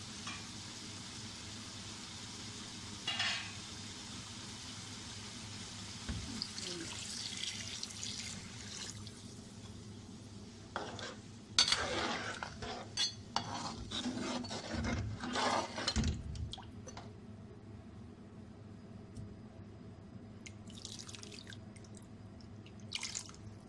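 Water trickles and splashes into a pot of cooking meat curry in a few uneven bursts, with soft rubbing and clinking of kitchenware, and quiet stretches between.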